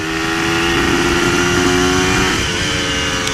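A two-stroke N-Pro motorcycle engine revs loud and close, a raspy, buzzing steady drone that holds high throughout.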